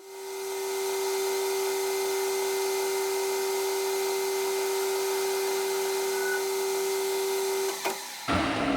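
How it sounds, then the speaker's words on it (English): A center drill spins in a Tormach mill at slowed speed, roughly 400 to 500 RPM, giving a steady, sustained whine with a strong even tone that holds unchanged before cutting off abruptly near the end. "got a center drill in here. Slowed it down a little bit"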